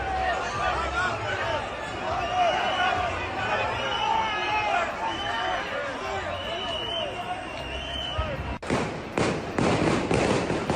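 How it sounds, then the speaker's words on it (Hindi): Smoke bombs thrown at police by protesters at an anti-corruption demonstration burst as a sudden loud series of sharp pops near the end, after a long stretch of crowd noise and chatter. "प्रदर्शनकारियों ने पुलिस पर स्मोक बम से किया हमला"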